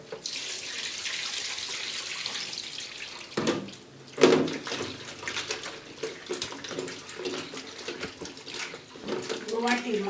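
Fish is washed under a running tap, with water splashing and gurgling into a sink and a voice speaking over the flow.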